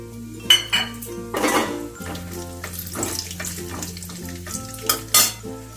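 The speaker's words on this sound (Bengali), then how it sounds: "তেলটা গরম হয়ে গেছে এবার আমি বাদামগুলোকে দিয়ে দেবো" Clanking of a pan and metal utensil stirring peanuts over a steady sizzle of hot oil, with sharp scraping bursts repeating throughout.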